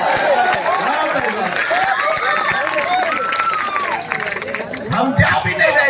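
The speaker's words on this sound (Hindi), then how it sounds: "भाई एक मजा जोरदार तालियां।" Lively clapping and cheering from a crowd at a comedy stage show in Darbhanga, Bihar, a continuous dense wash of hands with whoops and babble of voices throughout.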